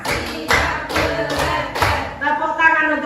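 A group claps hands together on a count in a school positive-culture session, giving a few loud, sharp bursts at a steady beat, with voices and chatter around them.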